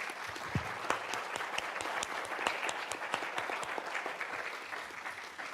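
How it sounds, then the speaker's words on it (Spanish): Audience applause at an academic forum on academic freedom in the Americas, a steady burst of clapping from a seated crowd that holds at an even level from start to finish with no talk over it. "quisiera pedirle otra vez una ronda de aplausos a Fabián."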